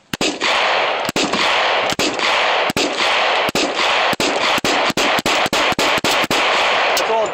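A rapid string of loud gunshots at an outdoor shooting range, roughly twenty close, sharp reports fired in quick irregular succession with no talking.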